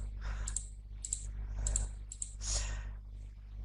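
Keys pressed on a Casio Graph 35+EII graphing calculator, giving about five separate soft clicks spaced roughly half a second apart over a low steady hum, with no talking.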